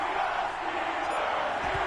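Stadium crowd noise fills Heinz Field just before kickoff of an NFL game between the Atlanta Falcons and Pittsburgh Steelers: a broad, steady roar of massed voices with no distinct claps, loud and enveloping throughout.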